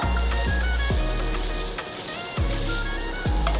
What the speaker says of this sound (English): Probably about 3 tablespoons of butter. Go ahead and get that melted down.